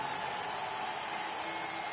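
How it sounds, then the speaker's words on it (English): A stadium crowd in a baseball video game, Pittsburgh Pirates against the Chicago Cubs, rises before a 3-2 pitch with a steady, even wash of cheering and applause that holds at the same level throughout. "Crowd gets up for the 3-2."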